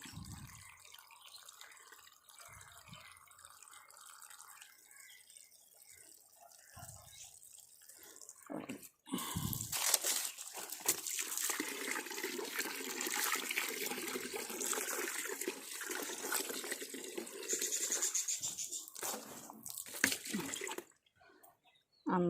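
Water pours and splashes steadily into a plant pot for several seconds after a quiet stretch, close by, with faint voices in the background.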